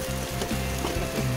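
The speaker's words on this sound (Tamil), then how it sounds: "ஒரு நிமிஷம் வதக்கி விட்டால் போதுங்க." Onions sauté with herbs in a hot pan for chicken biryani, giving a steady close sizzle broken by the soft scrape and clatter of stirring.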